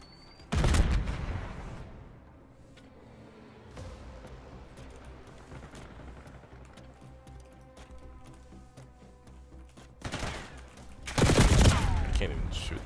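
Gunfire in a first-person shooter video game: a loud rapid burst early on, scattered softer shots and clatter through the middle, then another heavy close volley near the end.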